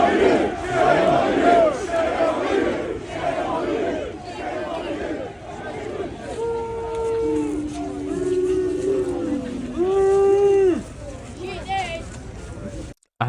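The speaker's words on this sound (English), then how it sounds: "The crowd said shame on you about 6, maybe 7 times, and then it just died out" Street protest crowd at a Telford march, many voices shouting and chanting in rough unison, with repeated drawn-out calls rising and falling, loud and fairly close amid crowd chatter.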